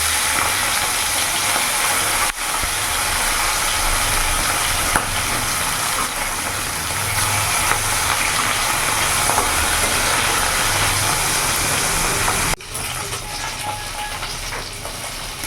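Flipped pieces of fish fry in hot mustard oil, making a loud, steady sizzling crackle close up. The hiss is briefly interrupted twice and then continues unbroken, with no talk.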